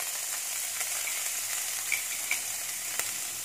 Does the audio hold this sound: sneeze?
no